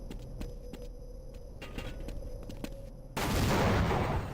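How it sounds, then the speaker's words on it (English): Explosions and gunfire in Half-Life 1 RTX: a string of sharp cracks and bursts over a constant rumble, then a loud sustained blast of noise near the end, close and dense, with no talking. "No, things just explode."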